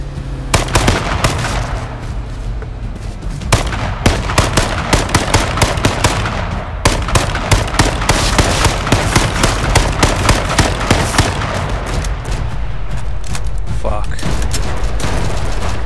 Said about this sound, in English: someone is shooting at him